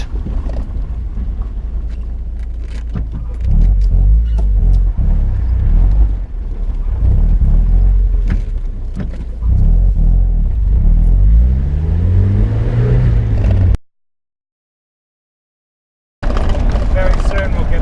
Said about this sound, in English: Now, at the moment, I'm on a gravel road which isn't the best